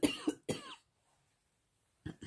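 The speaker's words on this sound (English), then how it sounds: "oh, hold on, I got a cough." A person lets out a short burst of dry coughs, two quick close hacks followed by a pause and another cough at the end.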